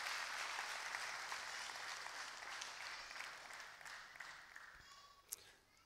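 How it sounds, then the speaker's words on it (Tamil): Audience applause in a hall after young people led an assembly, a steady wash of many hands clapping at moderate distance, slowly fading toward the end. "நல்ல முறையிலே இந்த சபையை ஆண்ட இந்த பிள்ளைகளுக்கு ஒரு முறை கரவொலி எழுப்பி"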